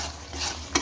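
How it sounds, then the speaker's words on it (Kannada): Gongura chutney ingredients stirred and mixed by hand, a short soft scraping and swishing with a slightly louder scrape at the end, no voices. "ಚೆನ್ನಾಗಿ ಹಿಂಗೆ ಹೊಡೀರಿ, ಎಲ್ಲ ಕಡೆ ತಿರುಗಿಸಿ"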